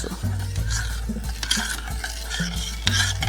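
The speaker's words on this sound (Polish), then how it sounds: "Mieszamy do rozpuszczenia cukier. Mieszamy cały czas." A spoon stirs sugar into 240 ml of liquid to dissolve it, giving close, steady scraping with repeated light clinks against the container and no talk over it.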